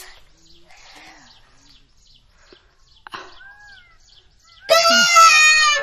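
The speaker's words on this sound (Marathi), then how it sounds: "मोर आवाज देतोय ना. त्या तिकडे आहे मोर." A peacock in a farm field near a maize crop being watered gives a loud, sustained wailing call that erupts near the end after quieter distant sounds.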